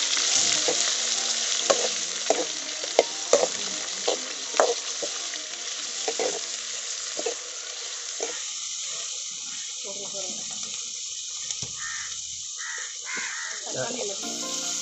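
Chopped onions sautéing until golden for a sea fish gravy, a constant oily sizzle with repeated spatula scrapes and clinks, close by, while a crow caws in the background.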